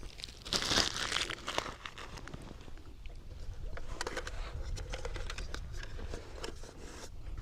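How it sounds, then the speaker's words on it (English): A heat reflective pad crinkles and rustles up close inside a bivy while wild camping outdoors, louder in a burst near the start, then softer crackling handling noises continue. "Got my little heat reflective pad."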